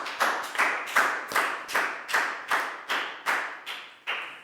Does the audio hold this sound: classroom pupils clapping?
yes